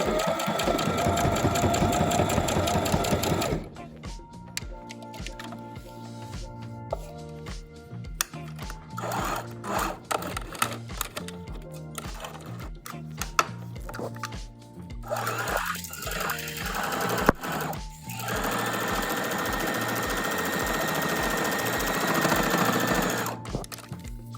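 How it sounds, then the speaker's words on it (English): A sewing machine top stitches a mini collar, running in a steady burst at first, then in short stop-start runs with pauses, before a longer continuous stretch of stitching toward the end. "I point my needle down. I start stitching."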